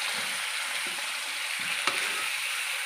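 Chicken pieces fry with onions in a pan for a curry with potatoes, giving a steady broadband sizzle with soft stirring scrapes and one sharp utensil knock, close and alone without talk.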